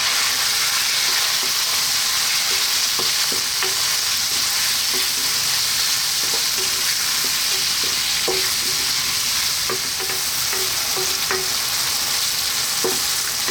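Onions and garlic fry in a pan with a steady, loud sizzle, broken by scattered clinks and scrapes from stirring, with no voices over it.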